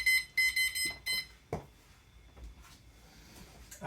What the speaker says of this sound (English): Put the timer up because the timer helps significantly.